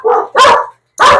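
Two dogs kept as would-be guard dogs bark loudly and close by, three hard, rough barks in quick succession with a brief gap before the last.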